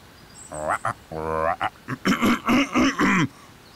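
Cartoon frog characters croak a night serenade, voiced by people imitating frogs in a rhythmic series of about eight short, throaty ribbits and croaks, up close and alone.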